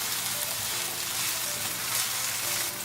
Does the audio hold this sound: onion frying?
yes